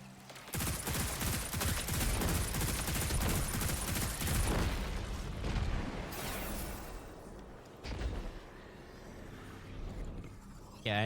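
Sustained light machine gun fire in a dungeon of a shooter video game, dense and loud with continuous rapid bursts that thin out toward the end, with a voice speaking over it.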